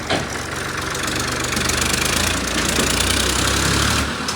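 A tractor engine running close by with a rough, knocking thump, a rapid, regular low pulsing that holds steady before dropping off at the end.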